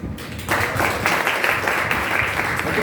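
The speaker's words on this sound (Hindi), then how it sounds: "आपके लिए ताली बजाएंगे" An audience at a career-guidance and honours ceremony claps for 12th-class students, the applause swelling in after a brief quieter moment and then holding as a steady crowd of hands.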